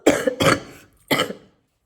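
A woman coughs three times close to the mic, two quick harsh coughs followed by a third after a short pause, loud and clear with nothing else under them.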